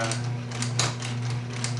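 Singer 6268 sewing machine embroidering, a steady close mechanical whir with rapid repeating needle clatter and a constant motor hum.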